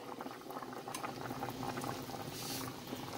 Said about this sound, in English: now that this is boiling, I have to turn it down and let it simmer